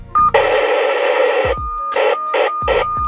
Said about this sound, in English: Just gonna be getting static right now.